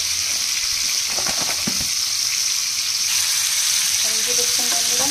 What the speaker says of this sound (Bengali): এইভাবে চিংড়ি মাছগুলোকে ভালো করে 2 সাইড করে উল্টে পাল্টে ভেজে নেব।